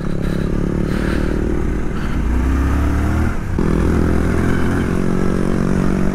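A Suzuki V-Strom 800DE engine revving hard on gravel, a loud continuous buzzing roar that rises in pitch, drops briefly at a gear change, then climbs again amid wind rush.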